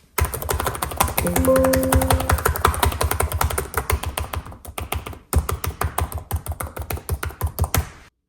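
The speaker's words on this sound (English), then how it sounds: "The keyboard itself, the key travel, the feedback, again, it's perfect for me" Rapid, crisp clicking of fingers typing on a Samsung Galaxy Book 5 Pro 360 laptop keyboard, close and continuous with a brief pause midway, no talking.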